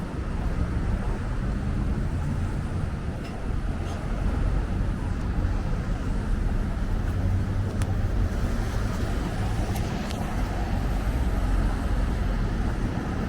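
Continuous street traffic on Charles Street West, a steady broadband roadway rumble of passing vehicles at moderate distance with no single pass standing out.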